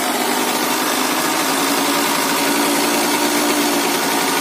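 A two-stroke 125cc motorbike engine idles while warming up, still running rich, giving a close, loud, steady buzzing drone with a fine rapid pulse and no talking.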